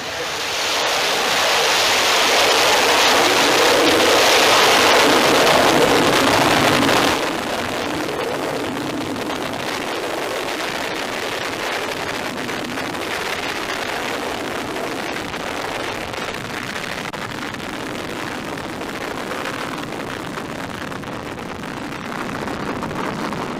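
An Astra orbital rocket roars at ignition and liftoff on a launch attempt that suffered an anomaly. A loud, broad rushing blast fills the first seven seconds, then settles into a steadier, slightly quieter rumble that holds to the end.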